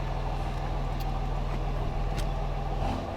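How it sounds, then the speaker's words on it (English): A Cummins diesel truck engine with a straight-piped 3-inch turbo-back exhaust and an aftermarket Sinister turbo runs at a steady idle, giving a close, continuous low rumble that stays even throughout. "I will say I love the sound of this Cummins engine."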